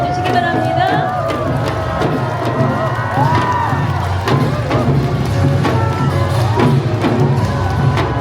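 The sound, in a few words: crowd applause and cheering at Lotus Lantern Festival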